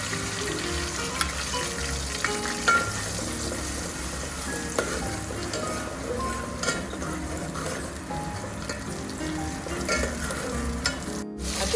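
Masala paste frying in a pan for a jackfruit curry, a dense, continuous loud sizzle with scattered spatters and stirring scrapes throughout.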